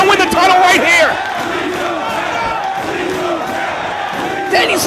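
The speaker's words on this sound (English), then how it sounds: "Listen to the crowd screaming, please don't tap at him" Wrestling arena crowd at a Ring of Honor title match between Bryan Danielson and Roderick Strong, screaming and roaring loudly and continuously, with a commentator talking over it.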